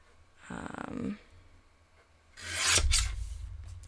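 Two close rasping strokes of a blade cutting through cardstock while trimming pieces for Christmas card making, a short scrape followed after a pause by a louder, longer rasp, with no talking.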